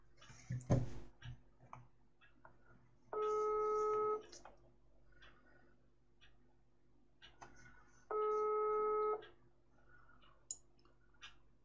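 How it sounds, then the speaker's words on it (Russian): A telephone call is dialed and rings out: two long, even ringback tones, each about a second, separated by a pause, after an opening click, with faint background rustling. "Теперь я снова звоню Антону."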